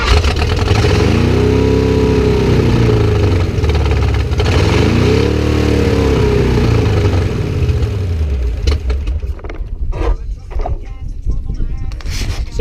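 A 1966 Ford Mustang engine catches and runs, rising and falling in loud revving sweeps close by, then dropping to a rougher, uneven running sound near the end.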